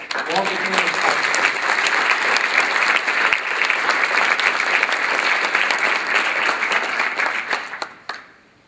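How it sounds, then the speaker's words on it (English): Sustained, dense applause from an audience honoring a Lakeland School District award recipient, loud and even for about eight seconds before quickly fading out. "give your applause to Priten Shah from Lakeland School District"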